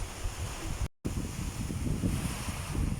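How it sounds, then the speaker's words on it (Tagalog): Strong wind after a typhoon roars steadily into the microphone as a dense, blustery rush, with one brief dropout near the start. "Bali ugong lang ng hangin yung naririnig natin"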